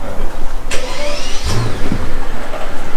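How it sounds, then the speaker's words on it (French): A Mercedes S-Class with an automatic gearbox cranks and fires on a cold start, a short low engine catch followed by a steady, fairly quiet idle, heard close by outdoors. "Petit cold start de la classe S devant"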